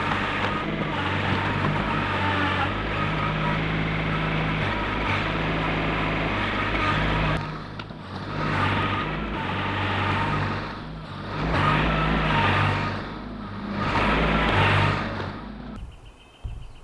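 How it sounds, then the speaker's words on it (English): A tractor engine runs steadily close by while setting small amounts of dirt along a silt fence, its drone swelling and easing in repeated surges as it works, then cutting off at the end. "I'm going to very carefully use my tractor and set small amounts of dirt across there"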